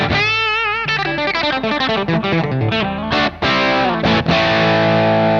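Electric guitar through a DOD Overdrive Preamp 250-X pedal, gritty overdriven tone, plays a quick run of notes and chords, loud and close, with sustained distorted ringing.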